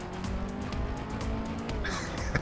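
A race car in Assetto Corsa revs hard as its tires squeal and slide, the screech rising sharply near the end, close and loud.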